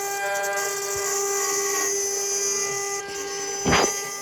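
A machine marks three holes on top of an aluminum block, a steady high whine with harmonic tones running throughout, plus a louder brief burst near the end.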